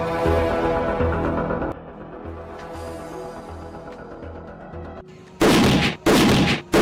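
Diwali firecrackers burst: loud rumbling blasts with crackling, then two sharp, very loud explosions near the end, each followed by a short pause.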